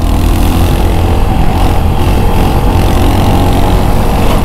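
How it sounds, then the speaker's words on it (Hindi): A Royal Enfield Hunter 350 motorcycle runs close and very loud, its single-cylinder exhaust giving a steady deep thumping idle with no pauses and no voices over it. "ये जो इसका एग्जॉस्ट नोट है पूरा एकदम थंप दे रहा है"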